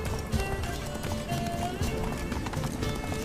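Roach the horse galloping in The Witcher 3 video game, steady rapid hoofbeats over a continuous bed of ambient game noise, close and fairly loud.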